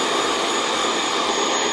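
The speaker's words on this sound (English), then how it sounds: "you can just blow into it with a hairdryer" A hairdryer blowing air in a steady, even whoosh, close by and loud, with no talking over it.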